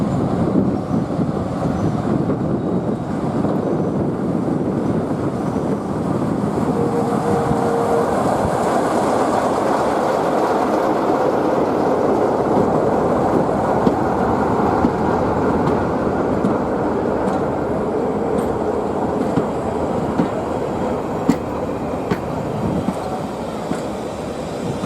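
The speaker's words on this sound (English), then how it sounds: "The Class 11 now departs with its one-coach train up to Weybourne." A Class 11 locomotive pulls away with a single coach, a steady rumbling drone of engine and rolling wheels with occasional rail clicks, holding fairly loud throughout.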